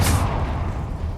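A Bombarda spell explodes in the video game Hogwarts Legacy: one sharp booming blast at the start that quickly decays into a low rumbling tail.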